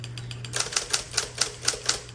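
A 1960 Electra 12 typewriter clacks through a steady run of keystrokes, one sharp strike roughly every quarter second, close and clear over a low electric motor hum.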